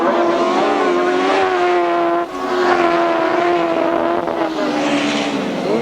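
Grasstrack sidecar racing outfits lap a circuit at the 1998 Collier Street meeting. Their engines make a loud, continuous, high-pitched whine that rises and falls as they power around, with no talk.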